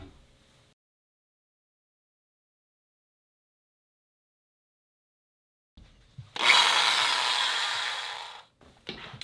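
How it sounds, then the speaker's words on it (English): A handheld drill bores into a wooden guitar body for pickguard screw holes, breaking a long near-silence with a loud steady whirring grind of about two seconds that stops abruptly, followed by a few faint handling noises. "So, time to get out the drill."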